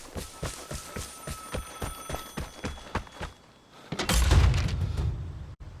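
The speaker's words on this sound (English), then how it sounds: "Oh, I want to answer that phone." A telephone rings repeatedly in the video game Vigor, a steady run of bell-like rings under footsteps or clattering, followed by a loud rumbling burst.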